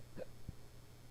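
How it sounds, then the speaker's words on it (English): A single short hiccup from a person during a live online discussion, faint and close over a low steady hum, followed by a brief soft throat sound. "Sorry, hiccups there."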